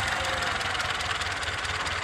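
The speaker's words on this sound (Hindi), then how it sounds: "ट्रैक्टर सीधा आ रहा है बिल्कुल" A tractor fitted with a blade pushes through and uproots bushes from below, its engine running loud, steady and close with a rough, knocking low throb and a constant mechanical drone.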